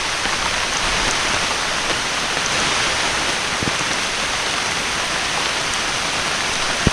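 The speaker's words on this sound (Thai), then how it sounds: "ฝนมันตก" Heavy rain pours down steadily in a forest, a dense, unbroken hiss of drops hitting surfaces with no voices.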